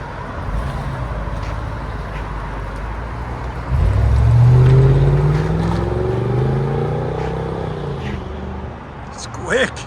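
Supercharged 5.5-litre V8 in a 2002-era Mercedes S55 AMG Kompressor fitted with an X-pipe exhaust, a loud steady engine drone that swells into a deep rising rev mid-clip, then eases off with a sweeping tone.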